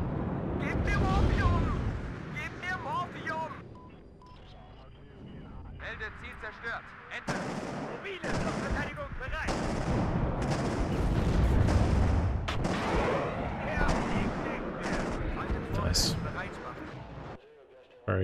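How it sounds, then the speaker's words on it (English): Anti-tank guns fire again and again during WARNO gameplay as East German forces defend, with heavy booming shots and battle noise running under continuous commentary. "those AT guns sound meaty when they fire"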